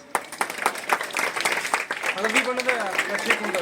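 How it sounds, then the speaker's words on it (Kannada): Applause from the audience at a school National Science Day event at Karnataka Public High School, Karatagi, with a steady patter of clapping running under people talking. "ಚಪ್ಪಾಳೆ."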